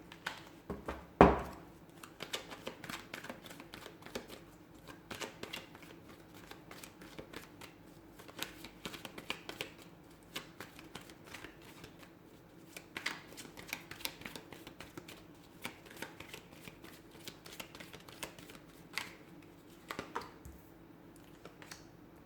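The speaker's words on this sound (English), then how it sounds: "let's go ahead and give the cards a shuffle and begin" Tarot cards are shuffled repeatedly, a run of soft riffling and tapping with brief pauses, close and fairly quiet, with no talking.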